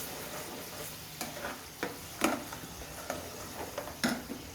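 Puréed onion fries in a hot pan for chicken changezi, a quiet continuous sizzle broken by a few sharp clicks and taps from stirring, with no voices.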